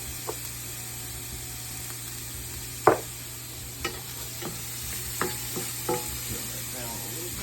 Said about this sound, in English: Let them cook for a minute or two before you put the garlic in